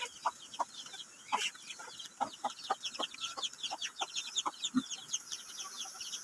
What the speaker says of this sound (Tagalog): Dinli man ang mga manok.